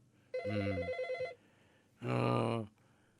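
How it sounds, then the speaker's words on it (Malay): A telephone rings for an incoming call: two separate bursts of an electronic trilling ring, the first warbling and the second steadier, close and clear with quiet gaps between. "Telefon masuk tu."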